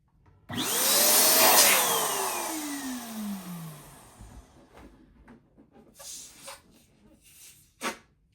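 Air rushing into a rubber balloon as it is blown up for a Christmas ornament, a loud rising whoosh with a squealing tone that slides down in pitch, then fading into small rubbery squeaks and handling noises.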